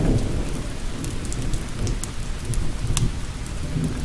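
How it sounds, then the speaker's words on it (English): Steady rain falls on a rainy evening in Georgia, a dense continuous wash with low rumbling that suggests distant thunder, with no voices over it. "as you listen to the soothing sound of falling rain and crackling fire."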